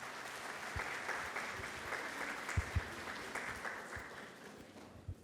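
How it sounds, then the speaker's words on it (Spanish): An audience at a workshop welcomes a speaker with steady, moderately distant applause, a dense wash of clapping with a few sharp bumps, lasting throughout. "Recibámosle con un fuerte aplauso a Esteban Ortiz, por favor."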